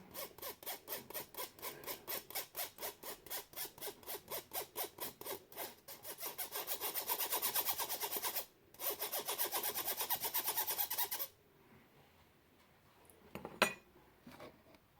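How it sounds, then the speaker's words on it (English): Spoon scraping lumpy cocoa powder through a sieve for gingerbread brownies, a rapid rhythmic rasping that runs steadily for several seconds, briefly pauses, then continues before stopping, followed by a few faint clinks. "just scrape it with a sieve and with a spoon"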